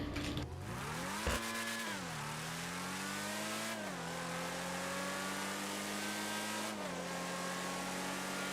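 Devastate 8 car driving in a racing video game, its mid-pitched engine revving steadily with gear shifts rising and falling in pitch, loud and continuous throughout with no talking.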